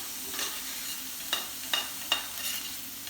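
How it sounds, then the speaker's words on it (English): Food frying in a pan while being stirred: a steady, moderate sizzle with three or four soft utensil scrapes at regular intervals, close by and without talking. "You gotta stir carefully until they get golden brown."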